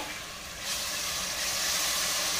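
Tomato puree poured into fried onion tempering for pav bhaji gravy, a steady hissing sizzle that swells louder partway through and holds, with no talking over it.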